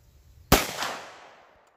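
A single sharp report from a 10mm pistol cracks out close and loud after a quiet lead-in, then decays through a long rolling echo.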